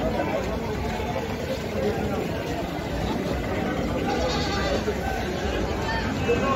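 Goats bleat amid the crowded bustle of an Ajmer livestock market, where a heavily built female goat with her kid stands among the herd; a dense layer of overlapping calls and murmuring voices fills the space continuously.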